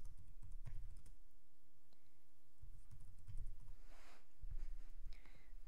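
Text typed on a computer keyboard, a quiet run of soft key clicks in bursts with brief pauses, close-miked over a low background hum.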